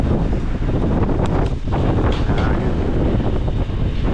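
Strong typhoon wind roars steadily into the microphone on a farm, a loud, continuous buffeting rush with brief gusty surges, no rain and no voices.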